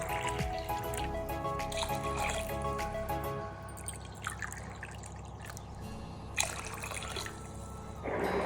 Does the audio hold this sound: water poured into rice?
yes